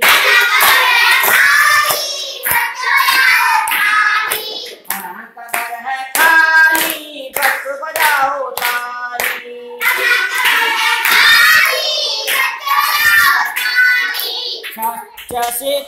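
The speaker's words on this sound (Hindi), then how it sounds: "बजाओ ताली" Hands clap along with a Hindi alphabet children's song, with sharp, rhythmic claps sounding between and under bright sung vocals throughout.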